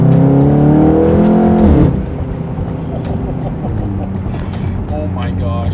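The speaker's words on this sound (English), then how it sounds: "Here's a little race action for you guys." Volkswagen Golf R at a race, loud engine revving with strong harmonic rises near the start, then a dense, steady roar of motors and track noise continuing throughout.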